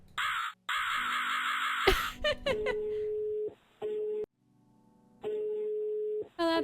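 A cartoonish crow caws in the puzzle game Rusty Lake Hotel, several short squawking calls mixed with tonal game jingles and beeps, loud and close with brief silences between.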